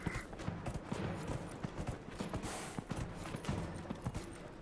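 A horse's hooves pound in quick, irregular splashing beats as it gallops through water in Dragon Age: Inquisition, steady and moderately close, with game ambience underneath.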